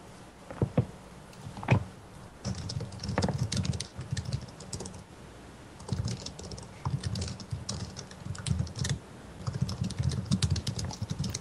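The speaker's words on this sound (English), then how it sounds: "your typing is so OP" Fast typing on a computer keyboard during a competitive game match, close and clattery with irregular bursts of rapid key clicks and brief pauses, no talk over it.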